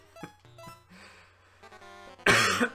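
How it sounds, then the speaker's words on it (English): A single sharp cough bursts out near the end from a player streaming a retro platform game, loud and close over quiet game music and beeps. "Oh, it's making me cough now as well."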